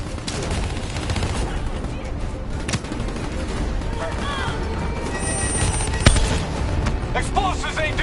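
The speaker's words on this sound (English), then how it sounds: "Hit him with the swarm launcher!" Swarm launcher blasts and dense gunfire fill a battle in Call of Duty Black Ops 3, with steady rattling shots, thuds and explosions under shouted voices.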